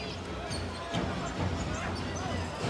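A basketball dribbled on an indoor court during a professional game, repeated bounces under crowd noise and commentary.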